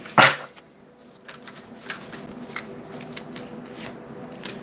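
Tarot-style cards handled and drawn from a deck: a short, sharp riffle of cards at the start, then soft intermittent rustles and slides of card stock, close and alone with no talk.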